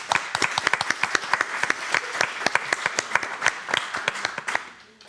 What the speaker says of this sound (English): let's give an applause to our panelists